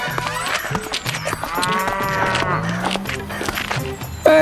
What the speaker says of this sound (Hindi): एक भैंसा खेत में फसल चर रहा था।